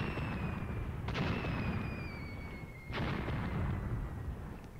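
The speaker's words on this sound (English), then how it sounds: "These are the 82mm mortars." 82mm mortars fire in the wartime strategy game Graviteam Tactics, two heavy booming reports a couple of seconds apart over a dense rumbling battlefield din.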